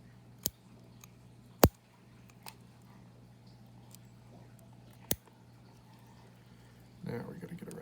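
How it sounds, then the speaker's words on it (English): A few sharp, isolated snips and crunching clicks of robust scissors cutting through a rat skull along the seam, spaced irregularly over a quiet, humming background, followed by a brief rustle at the end. "Nice robust pair of scissors is good for this."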